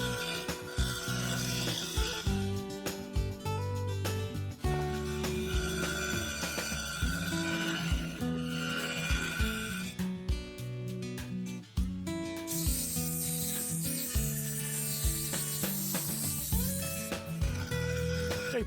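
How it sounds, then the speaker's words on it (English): Spalted beech bowl with three-colour epoxy resin being sanded on a spinning wood lathe, a continuous loud rasping rub layered over a steady mechanical drone, with no talk. "Then I resanded and the outside was done."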